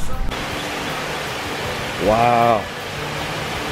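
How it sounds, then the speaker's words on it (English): Steady broadband rush of Jones Run Falls, a creek waterfall in Shenandoah National Park, cascading continuously throughout, with a brief exclamation from a man partway through. "Beautiful set of falls right there. Water cascading over that."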